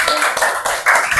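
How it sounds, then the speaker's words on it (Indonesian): A group of children clap together in a classroom after finishing homemade ice cream with toppings, a short burst of dense, busy clapping close by, with faint voices mixed in. "Tepuk tangan semuanya."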